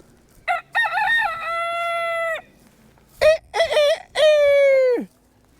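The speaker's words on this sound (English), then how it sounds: "I love the noise of roosters when they do their little" Two loud, close rooster crows, each a rising call drawn out into a long held note, separated by a short pause.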